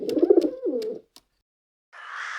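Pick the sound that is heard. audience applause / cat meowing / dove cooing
dove cooing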